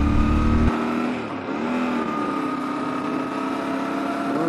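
A 2023 Yamaha Ténéré 700 motorcycle cruises onto a highway, its engine a steady droning hum with a rising and falling tone, wind roar underneath, heard close and continuously.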